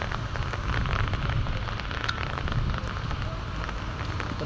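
Heavy rain falls hard in Hyderabad, a continuous loud hiss of drops hitting surfaces nearby, steady throughout with slight swells and no talking.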